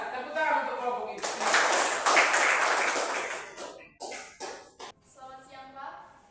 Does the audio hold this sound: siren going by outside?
no